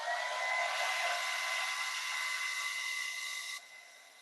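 A hair dryer blows steadily on fresh paint on a miniature, a loud continuous whine with a tonal hum that drops off sharply near the end, with no voices.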